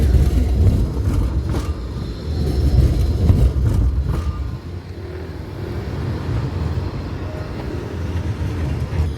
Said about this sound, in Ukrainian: Цей 17-й трамвайчик.